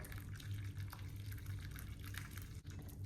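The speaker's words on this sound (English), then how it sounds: "I'm just filling it up with hot boiling water" Hot boiling water runs steadily from a tap into a bowl sitting in a plugged kitchen sink, a continuous close rushing fill that briefly dips near the end.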